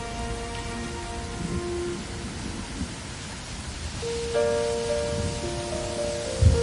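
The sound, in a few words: rain falling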